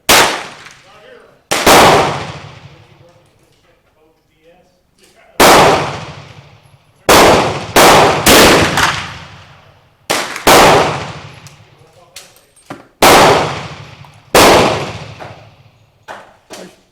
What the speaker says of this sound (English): I shot 5 rounds.